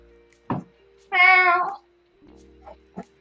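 During a tabletop roleplay, a person's voice imitates a cat's meow: one clear drawn-out meow, bracketed by a few short soft sounds and quiet murmurs in a calm room.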